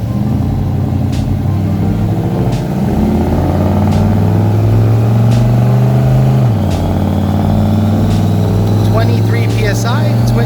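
Twin-turbo built Coyote V8 with a 4R200 transmission, in a 1993 Cobra running E85, roaring steadily through a loud sustained pull on a dyno, its pitch holding and then dropping as it shifts, with faint voices at the end.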